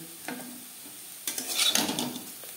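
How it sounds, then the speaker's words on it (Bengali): Potatoes sizzle in a pan as they crisp over high-to-medium flame. A soft frying hiss runs under brief scraping strokes of a spatula stirring them about. "আমি একটু ক্রিস্পি করে ভেজে নেব। এর জন্য আমি আরও হাই টু মিডিয়াম ফ্লেমে 2-3 মিনিট নাড়াচাড়া করে নেব।"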